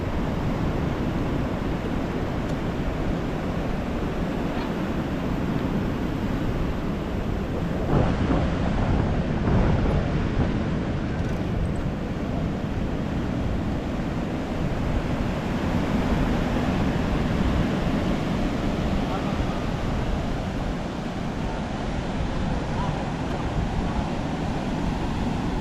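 Strong surf breaking steadily on the beach at Baler, a continuous loud roar of waves with heavy wind buffeting the microphone throughout and no clear talk.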